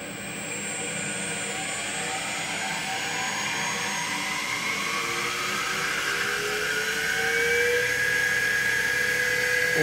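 Optimum MH25SV milling machine spindle running steadily, a continuous high whine with tonal hum, close and even, slowly rising slightly in level toward the end; no talking.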